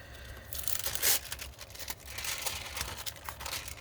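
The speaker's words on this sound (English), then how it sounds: "Just some foil from a project I did." Crinkly leftover foil is pressed and rubbed onto a Halloween card, producing close, continuous crackles and tearing rustles with one sharper crunch near the start, over low background hum.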